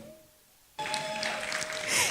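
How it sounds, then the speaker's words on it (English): Audience applause at a career seminar in a hall, starting suddenly after a quiet pause and continuing as a steady, moderately loud wash of many hands clapping. "And if you're clapping, clap."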